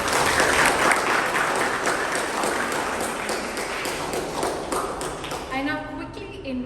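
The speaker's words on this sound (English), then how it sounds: "A huge round of applause for all of them." Applause for the speakers at a Toastmasters club meeting: many hands clapping in a dense, sustained burst that tapers off toward the end, with a voice speaking faintly over the last moments.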